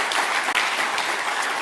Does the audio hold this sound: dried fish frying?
no